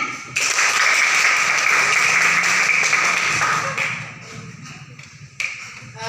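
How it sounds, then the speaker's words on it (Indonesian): Applause from a classroom audience during a teacher training session fills the room with a dense, steady wash of claps, then tapers off over the last couple of seconds, with a few scattered late claps. "Ayo tepuk tangan."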